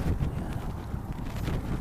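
Steady wind gusting past a microphone beside a highway on an overcast, breezy day, a continuous low rumbling roar with no voices.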